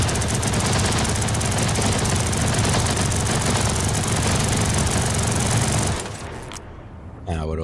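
Sustained rapid automatic gunfire with an infinite ammo ability in The First Descendant, a dense loud hammering stream for about six seconds, then it stops and a voice speaks.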